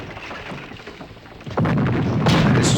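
A bomb blows up in the N64 game Rampage World Tour with a sudden deep boom partway through, then a loud sustained rumble and crackle that fills the rest of the stretch.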